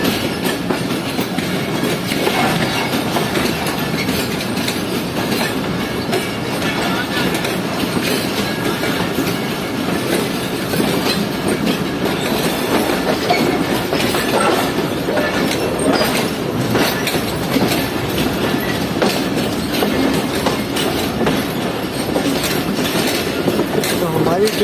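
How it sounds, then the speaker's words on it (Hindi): The Shaheen Passenger train rolls along steadily with a constant rumble and clickety-clack of wheels on rail as it changes tracks, loud and continuous throughout. "हमारी ट्रेन ने ट्रैक चेंज कर लिया है।"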